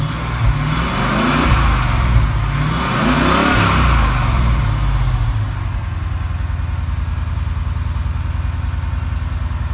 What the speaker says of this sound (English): Go ahead and rev it up one time.